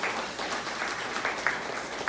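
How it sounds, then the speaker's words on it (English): Steady dense applause from a crowd at a retirement dinner, filling the whole moment at an even level with a few sharper claps standing out near the end. "give him applause"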